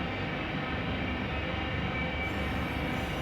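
A Norfolk Southern train in the Run 8 train simulator game rolls along at about 50 miles an hour with a steady, broadband rumble and rail noise that stays constant and fairly loud throughout.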